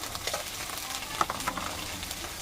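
Ginger garlic paste and ground spices sizzle in a pan, a close, even crackle broken by a few sharper stirring scrapes. No talking.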